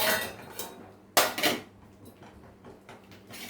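The metal lid comes off a cooking pan of hilsa fish paturi with one close, sharp clank, followed by a few lighter metallic rattles in a quiet kitchen.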